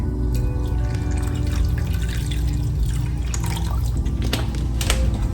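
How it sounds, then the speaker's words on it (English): Water poured into a pan while cooking smothered pork chops, splashing and trickling steadily for several seconds, close by, with no voices. "we're gonna pour water."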